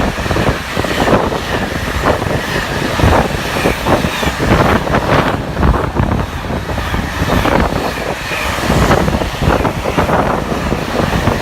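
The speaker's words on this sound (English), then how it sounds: "We've got a Class 90 on Freightliner and two passing 390." Class 90 electric locomotive 90044 hauling a Freightliner freight train passes close at Tamworth on the West Coast Main Line, a loud continuous rumbling roar with heavy wind buffeting throughout.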